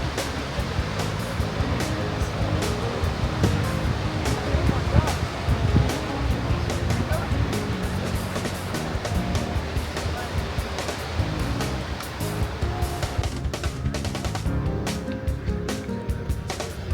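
Ocean waves wash steadily against the shore at Sunset Cliffs in Southern California, a continuous broad surf roar with wind, while a person talks over it.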